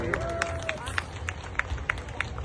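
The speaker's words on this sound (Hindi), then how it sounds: "एक बार जोरदार तालियां दोबारा इन बच्चों के लिए" Audience at a Navratri puja celebration clapping for a children's classical dance, faint, evenly spaced rhythmic claps over a low crowd murmur, with a brief voice at the start.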